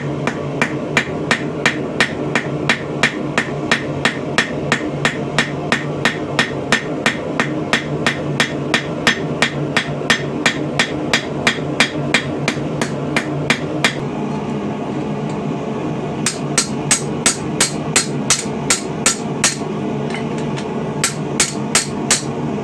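Hammer blows forging the side bevels of a medieval leaf-bladed iron arrowhead, a long run of sharp, loud, ringing strikes in fast even rhythm, pausing briefly before resuming in quicker bursts.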